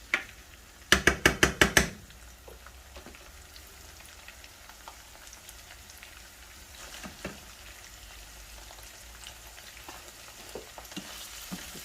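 Kalamata olives frying in oil for a puttanesca sauce: a quick burst of sharp clattering clicks near the start, then a faint, steady sizzle with scattered small pops, no talking.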